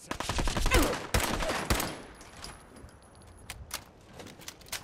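Gunfire in Fallout 4: a rapid burst of shots at the start, then several single loud cracks, followed by sparser, quieter shots and clicks.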